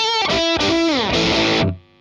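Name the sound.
foldback distortion effect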